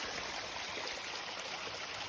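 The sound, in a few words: creek water flowing on Appalachian Trail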